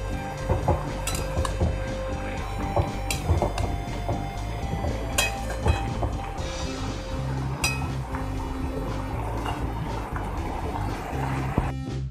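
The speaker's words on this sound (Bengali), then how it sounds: "মশলাটা এবার মিশিয়ে নেব সমস্ত সবজির সাথে।" Spices are stirred into mixed vegetables for Bengali labra, a puja bhog dish, in a cooking pot: repeated metallic clinks and scrapes of a spoon against the pot with soft sizzling, close and steady.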